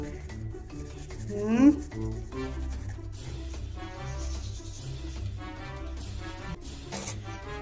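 A child scrubs their teeth with a toothbrush, a steady rasping rub that comes through under music and voices.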